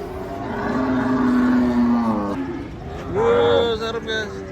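Enraged cattle are unloaded from a truck, with two loud, close, drawn-out moos separated by a brief pause over a rough background of movement.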